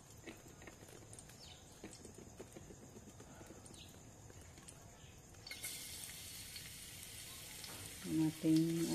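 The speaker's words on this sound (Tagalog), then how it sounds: "Nagpainit pa ng kawali." Garlic frying in a heated pan for a patola and egg dish, a soft steady sizzle that swells louder in the final seconds, with faint kitchen clatter throughout.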